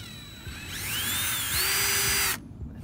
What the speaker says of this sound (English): Slow drill.